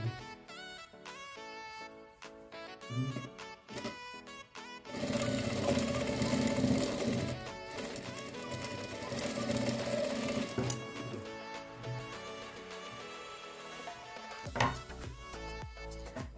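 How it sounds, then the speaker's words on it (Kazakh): A sewing machine stitches a seam on a fabric table runner, its rapid mechanical whirr starting and stopping in bursts, then running in a long steady stretch, close and prominent with no talk. "Енді осы қосқан жерімізден тігіс түсіреміз."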